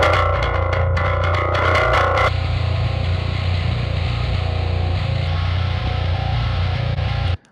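Bass guitar run through a distortion plugin in a metal mix, a thick gritty growl with a few choppy picked notes at first, then a long sustained distorted drone, loud and close, cutting off abruptly.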